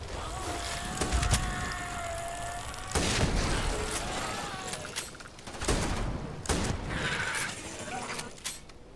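Gunfire in the space role-playing game Starfield, dense bursts of shots during a firefight alongside clanking mechanisms and other effects, with a brief horse-like whinny sound near the start.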